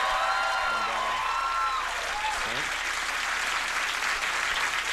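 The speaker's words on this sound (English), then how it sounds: "It's real natural applause for Pierre." Studio audience of a late-night television program applauds for graphic artist Pierre Bernard, a steady, dense wash of clapping that holds at even loudness throughout, with some crowd noise mixed in.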